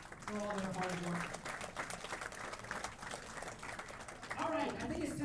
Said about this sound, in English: So please give them a round of applause for all their hard work.